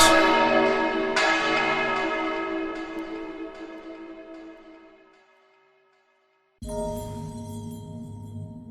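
Church bells peal in a rich, ringing series of strikes that slowly decay into near silence, then a fresh loud clang bursts in.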